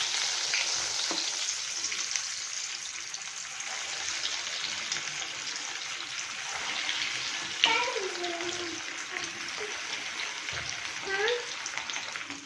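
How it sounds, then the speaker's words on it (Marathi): Cheese corn balls deep frying in hot oil over a low flame give a steady, close crackling sizzle throughout, with a few brief clinks and scrapes standing out. "आपले जे बॉल्स आहेत ते आपण या ऑइलमध्ये डीप फ्राय करून घेणार आहोत"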